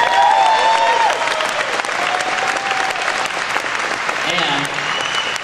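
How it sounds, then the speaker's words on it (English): An audience at a company event applauds loudly and steadily throughout, with voices and a few cheers mixed into the clapping. "Let's give him a round of applause."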